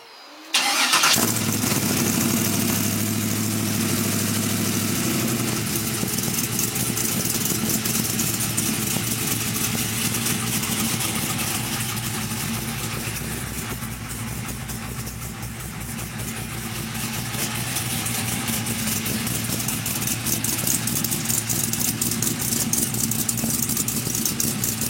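A SEMA show car's engine cranks and catches, then settles into a loud, steady idle that runs close by for the rest of the clip, with a slight dip and swell in the rumble midway.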